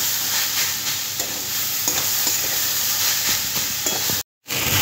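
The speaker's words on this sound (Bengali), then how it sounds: "পেঁয়াজটাও সবজির সাথে খুব ভালোভাবে ভেজে নিতে হবে যাতে সবজির কাঁচা গন্ধটা চলে যায়।" Chopped onion and mixed vegetables frying in a pan for cutlets, a loud continuous sizzle with stirring scrapes throughout and a brief sudden cut near the end, no voices.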